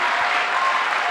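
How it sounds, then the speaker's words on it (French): A church congregation applauding and acclaiming Jesus Christ, a dense continuous wash of clapping from many hands, loud and steady across the short moment. "Est-ce qu'on peut acclamer encore Jésus-Christ?"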